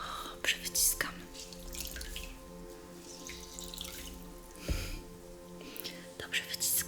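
A wet cotton towel being wrung out, dripping and splashing water in short bursts close by, with soft whispering over it.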